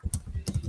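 Quick keystrokes on a computer keyboard, a short burst of close, crisp clacks in an uneven rhythm with no voices.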